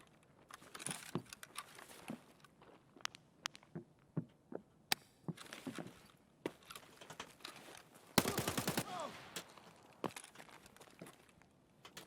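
Gunfire from an AK rifle in the video game Escape from Tarkov: a tight, rapid burst of automatic shots stands out after a run of scattered clicks and sharp single knocks, with no talking.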